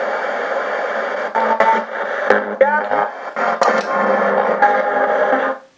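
A spirit box sweeping through radio stations gives continuous static, a buzzing, hissing hash broken by rapid clicks, blips and brief warbling fragments of sound, fairly loud throughout.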